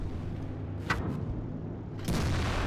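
A single heavy tank cannon shot in World of Tanks Blitz booms once, then a second report follows about a second later, both dull and mid-distance under a steady rumbling engine drone.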